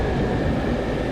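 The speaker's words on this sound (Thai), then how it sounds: "อันนี้เสียงแอร์นะครับเสียงแอร์" Steady broadband air-conditioning hum and rumble inside a bus, continuous and even with no voices.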